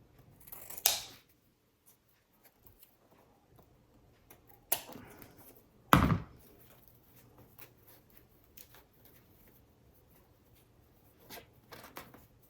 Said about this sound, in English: where the crease is, you're going to cut diagonally outward